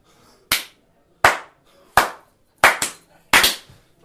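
A series of sharp hand claps made to sync a podcast recording in front of a microphone, five loud isolated bursts with a quick double near the middle, each fading fast into silence.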